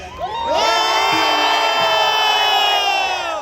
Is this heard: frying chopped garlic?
no